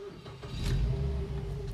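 A car with a dead battery, boosted by a high-power portable jump starter, cranks and catches into a low, rumbling idle, heard faintly and briefly with no talk.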